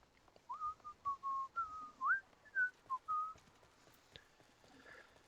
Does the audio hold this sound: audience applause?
no